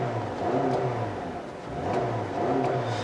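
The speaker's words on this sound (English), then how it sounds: "what you're hearing is the company's updated FB 2-liter flat 4" A 2017 Subaru Impreza 2.0i Limited's FB 2-liter flat-four boxer engine idling after start, a close, steady low growl with gentle rhythmic pulsing.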